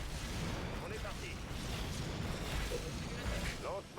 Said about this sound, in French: Lancement des obus.